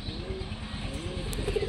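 Pigeons, including giribaz and sherazi breeds kept with eggs and squabs, coo softly and steadily in a low repeating murmur, with faint chirps mixed in and no voices.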